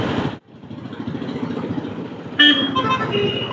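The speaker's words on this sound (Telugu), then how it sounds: "మొత్తం ట్రాఫిక్ జామే ఈ ఆర్టీసీ బస్ స్టేషన్ సరౌండింగ్స్లో." Stuck in a traffic jam around the Narsipatnam RTC bus station, engines drone close by until a loud car horn starts honking midway and holds on, with another horn joining.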